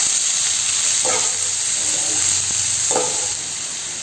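Onions frying in ghee with cinnamon, cloves, cardamom and fennel seeds give a bright, steady hiss close by, with two brief stirring scrapes breaking through, and no one talking.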